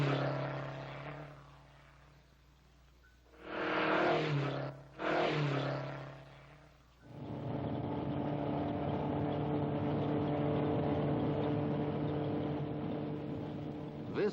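The 1962 Ford Mustang concept car's engine is heard as muffled, vintage-recorded bursts of revving, then a sustained, steady engine drone that holds to the end.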